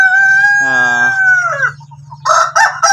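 A rooster among backyard farm chickens crows loudly and close with a long drawn-out call, followed by sharper clucking bursts from the flock near the end.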